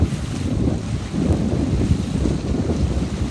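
Steady wind on open water during a 29er dinghy sailing clinic, heard as a loud, continuous rushing buffet over the microphone with low wave wash underneath and no speech.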